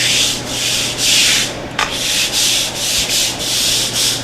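Cleaning solution is scrubbed into an unsealed wooden floor in close, loud, rhythmic back-and-forth strokes, about eight even rubbing passes with a brief knock in the middle.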